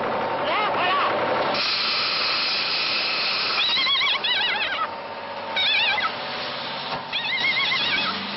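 A horse neighing repeatedly in loud, wavering whinnies over a steady hissing background, with a voice talking alongside.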